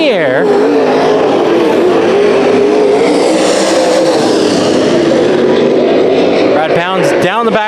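Modified race cars roaring around Bakersfield Speedway during a heat race, loud continuous engine drone with revving pitch swings as cars pass, under an excited announcer's voice.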